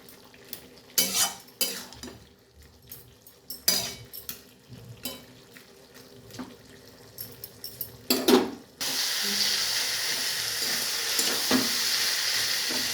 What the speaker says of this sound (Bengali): এই সময় আমি এই মাছের মাথাগুলো দিয়ে দেবো ঢেলে আবার সিদ্ধ হতে দেব